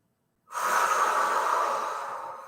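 A single deep, drawn-out breath during a yoga flow. It starts abruptly after a moment of silence and holds steady, close and clear, for about two seconds before easing off slightly.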